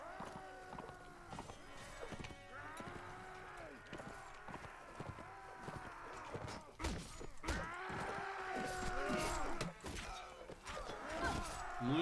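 Horses gallop in Mount & Blade: Warband, their hooves thudding in quick repeated clip-clops amid battle noise and a tonal game score, all fairly quiet.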